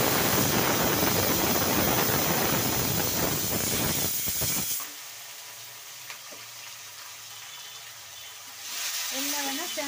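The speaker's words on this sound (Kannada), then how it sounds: "ಎಲ್ಲವನ್ನು ಚೆನ್ನಾಗಿ ಫ್ರೈ ಮಾಡ್ಕೊಳ್ಳಿ" Garlic, onion, tomato and curry leaves fry in a pan with a loud, dense sizzle for several seconds, then settle into a quieter hiss as the cooking continues.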